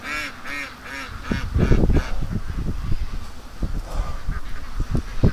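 Ducks by a lake give a run of nasal, repeated quacks and honks, loud and close at first, then mixing with gusty wind and scattered thumps and rustles.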